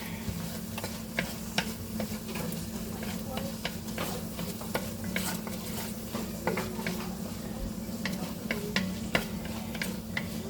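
Onions and garlic frying in a pan while being stirred, giving a steady close sizzle with frequent light scrapes and taps of the utensil throughout.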